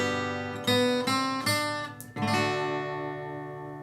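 Acoustic-style guitar plays a simplified arrangement of a song, with several strummed chords that ring and sustain, heard clearly and alone at close range.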